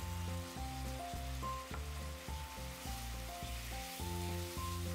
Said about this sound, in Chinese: 再加入葱段兜匀